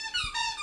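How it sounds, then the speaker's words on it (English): A dog gives a short, thin squeak, rising and wavering, close by and fairly clear with nothing else around it. "the squeaking, that was my dog"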